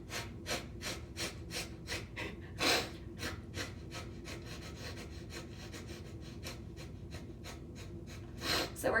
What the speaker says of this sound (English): So nice and relaxed inhale and forceful exhale.